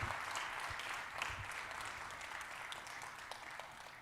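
An audience applauds steadily during a standing ovation at a lecture event, a dense patter of clapping that holds for several seconds at a soft, distant level.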